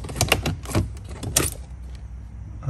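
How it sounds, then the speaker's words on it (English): A plastic pry tool working BMW E46 M3 center console trim loose gives a few sharp, close plastic clicks and snaps, clustered early and again near the middle, with quieter handling rustle between. "So I got my plastic pry tool here."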